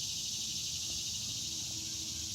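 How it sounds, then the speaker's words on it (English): A loud outdoor chorus of insects, crickets by the sound of it, keeps up a continuous, even high-pitched buzzing drone that fills the scene without pause or voices. "The insects are really loud today."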